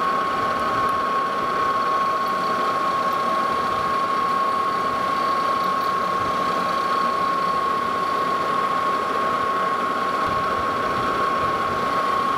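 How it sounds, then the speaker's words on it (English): Metal lathe taking a cut with the cross slide fed by hand while turning steel leveling screw feet, a steady loud mechanical whir with a constant high tone running unbroken throughout. "Instead of using a power feed, I'm just feeding this by hand."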